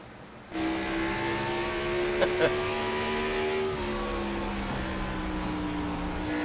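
Race cars roar through a turn at Bristol in a NASCAR Cup Series event, engines sustaining a loud, steady drone with a slight pitch drop as the pack passes close by.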